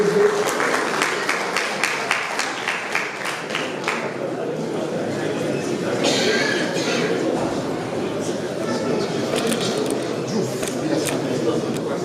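Audience clapping greets the representative of the mayor of Dijon at an anniversary event, with dense, sustained applause and crowd noise lasting about twelve seconds, voices chattering underneath.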